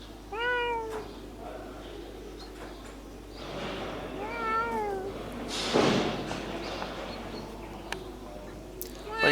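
A farm cat at a dairy yard meows twice, clear rising-falling cries close by, with soft background noise and faint birds around it.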